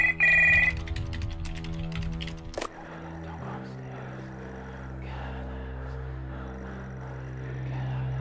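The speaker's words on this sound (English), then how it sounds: "Behind the door, a phone starts to ring." Telephone ringing in the horror video game Stories Untold, bright repeated electronic rings at first, then an abrupt cut to a low droning hum.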